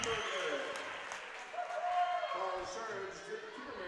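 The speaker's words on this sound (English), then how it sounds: "And the crowd goes wild." Crowd noise at a 2016 regional 3A girls high school basketball championship, Grace versus Homer, a broad wash of cheering and applause that swells mid-clip, with a voice talking over it.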